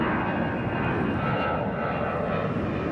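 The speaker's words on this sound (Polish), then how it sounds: "O, zobaczcie. Właśnie leci tu samolot," An airplane passes overhead in Catania, Sicily, a steady, loud, broad engine roar that fills the whole stretch without a break or any talking.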